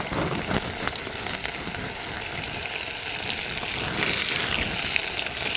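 Cumin seeds fry in hot oil with a dense, steady crackling sizzle that stays fairly loud and even throughout, heard close with no voices.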